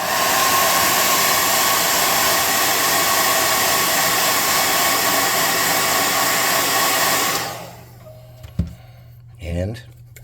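A hair dryer blows on fresh paint on a puzzle cube prop, a loud, steady whooshing roar for about seven seconds that cuts off abruptly, followed by a couple of small knocks and handling sounds.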